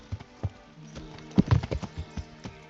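Irregular clopping of horse hooves in Kingdom Come: Deliverance, several uneven steps with a couple of heavier thuds, fairly quiet and synthetic-sounding.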